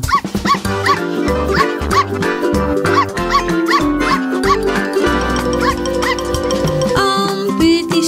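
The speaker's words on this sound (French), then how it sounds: "Maman chienne a dit ouf, ouf, ouf, ouf." Cartoon mother dog barking in a French children's song about five little puppies, repeated yips and woofs set against loud, busy music throughout.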